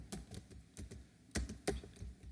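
Someone types Python code on a computer keyboard in quick, irregular clicks, a few keys struck harder than others, close and fairly quiet with short pauses between bursts.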